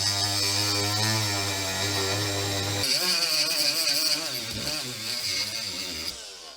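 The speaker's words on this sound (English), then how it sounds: "I had to almost grind this thing completely in half before it finally let go of that rod on the selector switch" A plastic knob is ground off the metal selector-switch rod of a budget cart, giving a loud, continuous power-tool whine with shifting pitch that stops partway through, leaving a rougher grinding tail.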